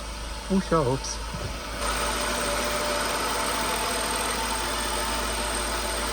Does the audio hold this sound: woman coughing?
no